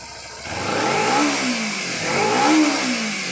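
A Kawasaki Z250 motorcycle engine with a stock engine revs twice, rising and falling in pitch, loud and close over a steady idle.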